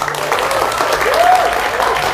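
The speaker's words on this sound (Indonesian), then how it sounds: "Tepuk tangan yang lebih meriah lagi." A studio audience at a TV discussion event applauds loudly and steadily throughout, with a voice faintly present underneath the clapping.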